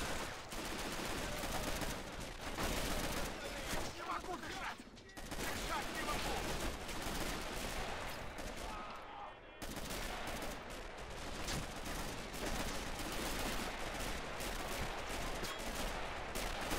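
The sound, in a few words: machine gun fire in video game Men of War Assault Squad 2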